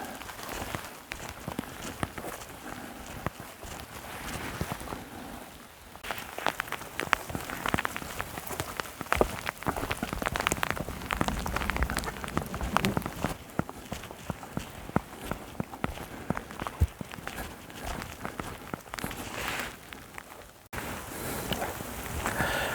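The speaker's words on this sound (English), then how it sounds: "it's raining even more now. It's pretty much pissing down now" Steady rain patters on the ground throughout a walk in wet weather with thunder about, a dense hiss of drops with footsteps mixed in, heavy enough to soak a walker.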